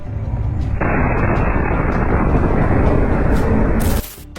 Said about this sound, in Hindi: इस बुलडोजर में भी जोरदार तरीके से एक धमाका होता है